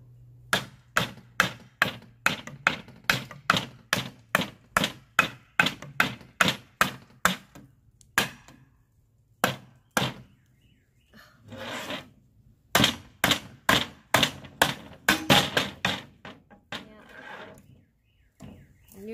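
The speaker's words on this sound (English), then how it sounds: "We'll just probably hammer those out." Hammer knocking finishing nails out of an old board during a mobile home laundry room remodel, a long run of steady, evenly spaced sharp blows, a short pause, then another quicker volley of strikes.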